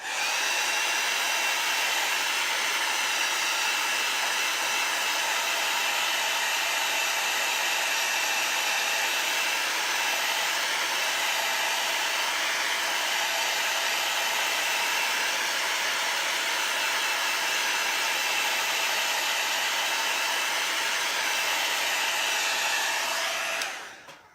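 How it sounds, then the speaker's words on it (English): A hair dryer blows steadily at close range for the whole stretch, heat-setting ink, a constant whooshing hum that cuts off at the end. "I'm just going to take the blow dryer and just heat set it a little bit."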